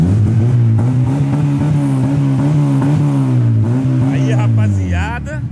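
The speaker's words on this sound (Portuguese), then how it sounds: "Barulho de carro, de verdade. Vamos uma acelerada aí pra ver. Acelera forte." A Chevrolet Chevette engine revs hard and loud, its pitch climbing and holding in a sustained roar, with voices talking over it.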